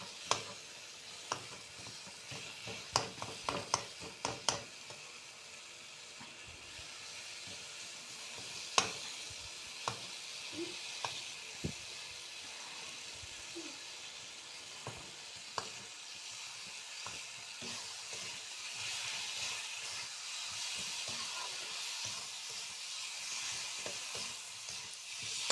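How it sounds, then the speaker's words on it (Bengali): Tomatoes fry in a pan for a Katla fish muri ghonto, a soft continuous sizzle with a scatter of light scrapes and taps as a spatula presses them down, no voices present. "এবার খুন্তি দিয়ে একটু টমেটোগুলো আমি চেপে নেব।"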